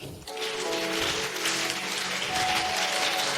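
A church congregation applauds and cheers for Jesus during a worship service, a steady, dense wash of clapping filling the room for several seconds without a break, with musical tones held underneath.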